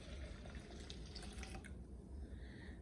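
Water pours and splashes steadily into a bowl of scalloped potato sauce mix, a close, continuous liquid rush that thins out near the end.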